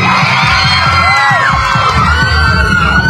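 A dense crowd at an outdoor fan event cheers and shouts continuously, loud and close, with high whoops and yells rising over the roar.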